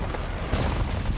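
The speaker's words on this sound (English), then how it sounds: "Here's a cannon" An old wooden cannon fires in Unreal Engine 4 game footage, a dense, loud booming blast that surges midway through a short rumbling burst of noise.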